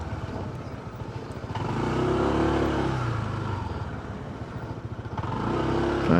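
Adventure motorcycle riding over a raised, unfinished bypass road under construction, its engine droning and surging with throttle, rough clattering underneath, fairly close and steady with no talk.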